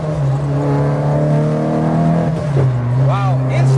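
A 36-year-old Peugeot 205 GTI engine revs hard under acceleration, a loud close rising drone heard from inside the car that dips briefly as the gear changes and then climbs again, while someone talks over it.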